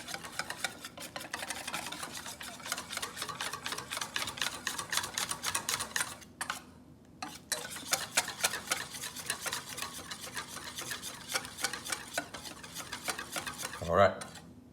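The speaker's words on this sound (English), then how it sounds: "Make sure all the flour is incorporated into the beer." Whisk or spoon stirring flour into beer in a bowl for tempura batter, a steady run of rapid scraping clicks against the bowl, briefly pausing midway, then resuming close and clear, ending with a brief knock.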